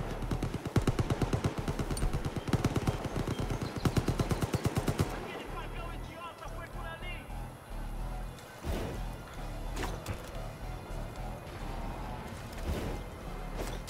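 Rapid bursts of automatic gunfire rattle for several seconds, then give way to scattered single shots and blasts, with game-like sound effects throughout, in the video game Far Cry 5.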